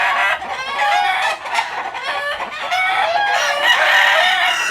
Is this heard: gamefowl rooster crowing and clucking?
yes